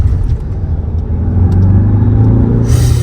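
Tata SUV engine accelerating in an automatic's Zoom sport drive mode, a loud, close, rising rumble and rev that builds steadily with no talking.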